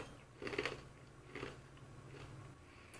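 Crunchy bites into extra-crispy, oven-baked-style potato chips from a snack box, a few close crunches and chewing bursts, then quieter chewing.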